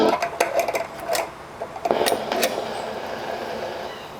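The spindle mechanism of a Webster Chicago 755-1 33/45 RPM record player attachment runs with no records loaded. It makes a series of close mechanical clicks and clacks over a steady whirring hum, and the clicks fade into the hum toward the end.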